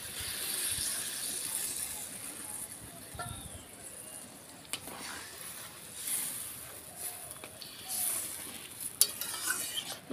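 Water used to rinse out the spice bowl goes into a pan of sizzling rohu fish curry with pointed gourd. A close, hissing sizzle and scraping stirs run throughout, and a voice talks over them.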